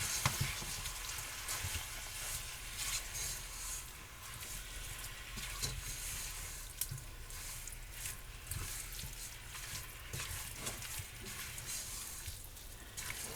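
Beef frying in a pan, a steady broad sizzle with a few small pops, continuous and close, with no voices.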